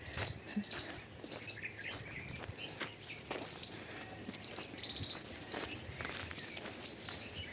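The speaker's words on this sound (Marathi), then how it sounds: "चिमण्यांचा आवाज" Sparrows give faint, scattered chirps on open farmland beside a sprouting wheat field, with a soft insect-like background and occasional rustles.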